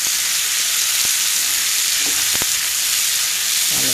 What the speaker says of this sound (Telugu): మొత్తం మిక్స్ చేసేసి కొంచెం ఫ్రై అవనిద్దామండి